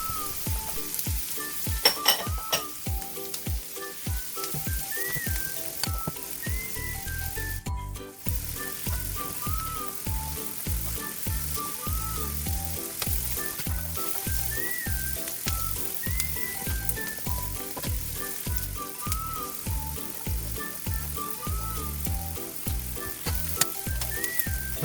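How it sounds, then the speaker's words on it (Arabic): Mushrooms and onions sizzle steadily in a hot pan for pasta with chicken and cream sauce, with frequent clinks and scrapes of a utensil stirring throughout, close and continuous with no talk. "وبعدين هننزل بالمشروم ونقلبه شوية مع البصل."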